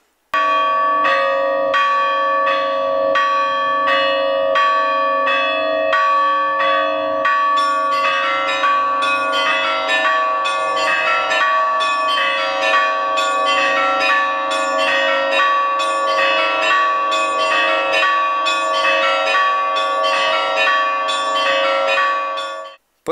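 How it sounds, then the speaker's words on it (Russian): Orthodox church bells peal at midday in a Slavic church during a Victory Day commemoration, a sustained loud ringing of many bells with rapid rhythmic strokes that grows fuller partway through, with no talk. "В славянских православных храмах в 12 часов дня звонили во все колокола."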